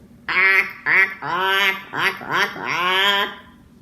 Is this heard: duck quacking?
yes